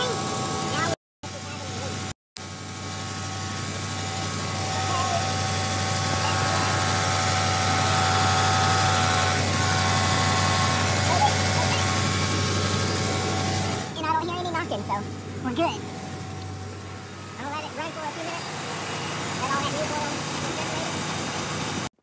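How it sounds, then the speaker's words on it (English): A car engine with a low battery idles steadily with a low, constant hum and slight vibration, running close by; a brief cutout early on, later some faint clattering and activity. "Go ahead and start this car up"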